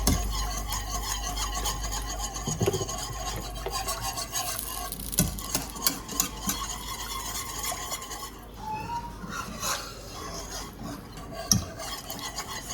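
A wire whisk scrapes and stirs breakfast gravy in a pan, a steady rasping swish with occasional clinks against the metal edges, close and continuous.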